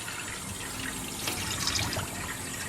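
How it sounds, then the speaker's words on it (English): Cold tap water runs steadily over a clogged car air filter from a Fiesta ST being rinsed clean, a close, continuous splashing wash with brief surges, heard alone without talk. "We're just rinsing it off, making sure that we have all remnants"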